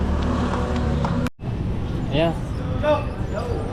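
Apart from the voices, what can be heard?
motor tricycle engine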